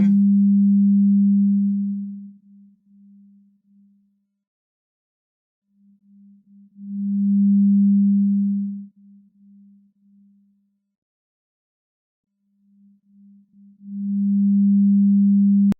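Audio Brewers Beam, a third-order beamforming algorithm, renders a pure low test tone that swells and fades in three sustained bursts separated by near-silent gaps.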